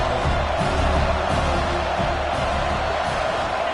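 Football stadium crowd roaring to urge on the home defense before a red zone play, a dense, continuous and loud wall of crowd noise with no pauses.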